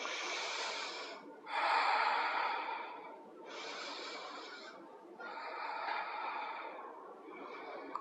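Deep, audible breaths during a yoga mobility stretch: long slow inhales and exhales in several rounds, close and fairly soft, with brief pauses between breaths and no talking.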